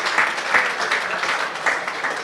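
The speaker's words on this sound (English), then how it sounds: "Can we have a round of applause for him" Crowd at a golf tournament prize ceremony at a Chennai golf club gives a round of applause, loud and close, with a few sharper bursts of clapping standing out from the steady patter.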